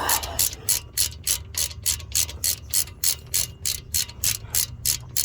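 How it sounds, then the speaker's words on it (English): A ratchet wrench undoes a 1/2-inch bolt on the Brembo brakes of a Maserati, with fast, evenly spaced metallic clicks repeating close up and alone for several seconds. "It's got 1 bolt straight through in the back. It's a 1/2 inch. You go ahead and undo that."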